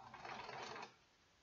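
A sewing machine stitches heavy drape fabric in a steady whirring burst for most of a second, then stops, leaving quiet room noise.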